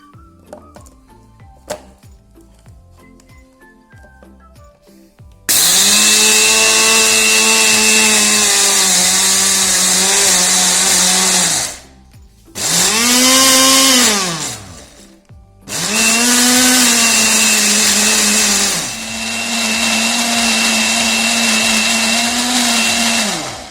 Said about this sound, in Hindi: और अब हम इसे फिर से ब्लेंड करेंगे